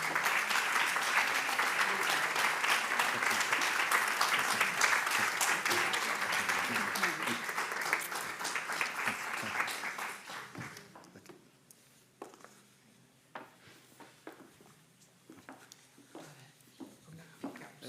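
Warm applause from an audience at a literary meeting welcoming a writer, dense and steady for about ten seconds before fading into scattered claps, footsteps and light room sounds.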